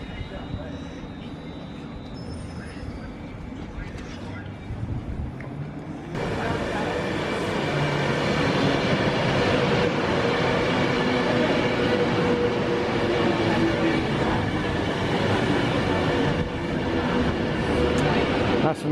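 An Avanti West Coast passenger train on the former London and North Western line roars past close by, starting abruptly after a quieter lead-in and holding a loud, steady rumble with rail noise for the rest of the clip.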